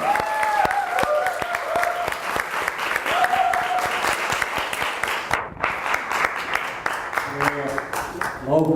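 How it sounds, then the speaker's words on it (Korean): Loud, sustained applause from a church congregation at a revival meeting as the senior pastor comes forward, dense clapping with a brief dip midway and a voice rising toward the end. "나오실 때 큰 박수로"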